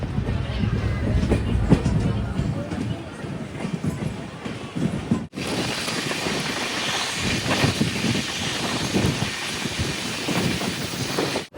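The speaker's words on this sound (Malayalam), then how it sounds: "ട്രെയിൻ ഇപ്പൊ താണെ റെയിൽവേ സ്റ്റേഷൻ ഇതാ എടുത്തു" Jan Shatabdi Express running past Thane station, heard as a steady loud rumble and rattle of coaches on the rails, intensifying into broader track noise midway, with no speech.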